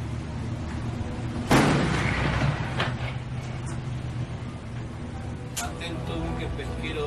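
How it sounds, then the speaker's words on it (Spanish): A single loud, sharp gunshot fired from a patrol ship at sea cracks out, followed by a long rumbling decay over steady engine and wind noise outdoors. "Un disparo, fuego libre."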